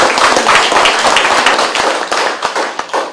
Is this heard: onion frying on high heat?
no